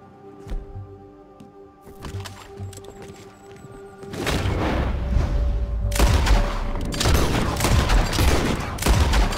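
Gunfire in Red Dead Redemption 2: a few sparse shots at first, then loud, continuous volleys of overlapping gunshots and booms that build into a dense fusillade, close and intense.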